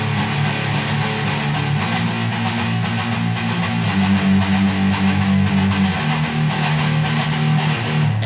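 An acoustic guitar strummed steadily at full speed through a repeating chord pattern, close and loud, with sustained chords changing every couple of seconds and no talking.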